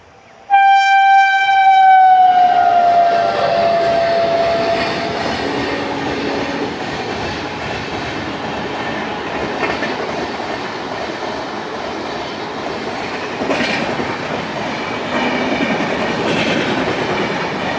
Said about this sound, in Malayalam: ബാംഗ്ലൂർ ഭാഗത്തു നിന്ന് വരുന്ന ട്രെയിനായിരിക്കും മൈസൂർ ഭാഗത്തേക്ക്.